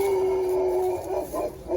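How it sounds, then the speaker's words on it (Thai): A neighbour's dog barks and howls from nearby in an orchard setting, with a sustained howl followed by a few shorter yelps at moderate loudness and no speech. "หมาข้างบ้านก็เห่า"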